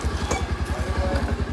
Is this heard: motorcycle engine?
yes